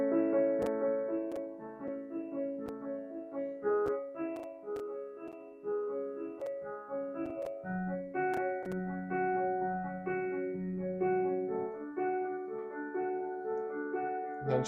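A piano plays the chord progression of a song, with sustained chords under a flowing broken-chord pattern, moderately soft and alone.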